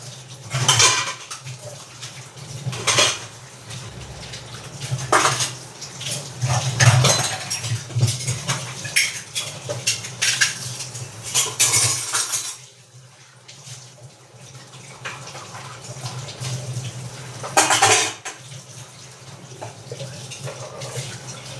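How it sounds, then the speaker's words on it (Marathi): Dishes clatter and clink while being scrubbed, with running water splashing throughout; steady, close kitchen-sink washing sounds, no talking. "आता निवांत एकदा भांडी घासली ना तर बरं वाटतं"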